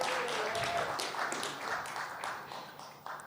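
Applause from a conference audience after a lightning talk, a steady patter of many hands clapping at moderate, fairly soft level that eases off toward the end.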